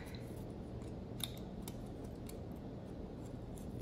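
Scissors trimming nail art material for butterfly designs: a few faint, sharp snips scattered over a low steady hum, close but quiet, with no talking.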